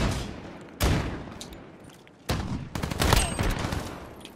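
Gunfire in Call of Duty: Modern Warfare, a sharp loud shot, then after a pause a rapid burst of several close shots in quick succession.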